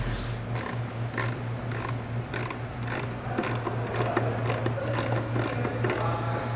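A screw driven back in to hold a Jeep Wrangler JK battery in place, with an even run of ratchet clicks repeating about twice a second over a low steady hum.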